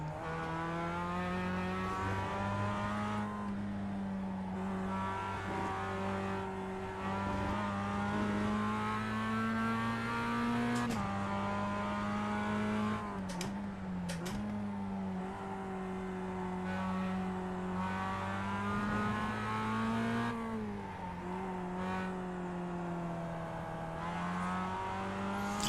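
Mazda MX-5 race car engine in iRacing at Okayama, a steady loud drone with rising and falling revs through shifts and corners, continuous with no talk.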